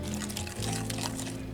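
Warmed ingredient poured out of its container during holiday gingerbread baking, a steady close liquid glug and trickle lasting a moment.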